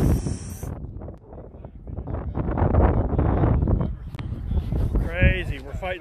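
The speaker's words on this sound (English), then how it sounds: "I'll let the wind blow right in that microphone" Wind buffets a microphone outdoors on a chilly road ride against a headwind, a continuous loud low rumble and gusty roar throughout, with a brief whistle-like tone near the end.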